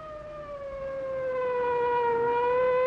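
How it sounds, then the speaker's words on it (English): An emergency vehicle warning siren sounds alone in a steady rising wail, growing gradually louder and nearer across the stretch. "so that the driver can hear the warning sound of a siren."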